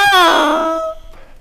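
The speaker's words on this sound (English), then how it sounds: "If you play the reed by itself, it sounds a little funny, maybe even a little weird." A bassoon double reed played alone gives a short, nasal, squawking crow of about a second, bright and buzzy, then cuts off to near silence.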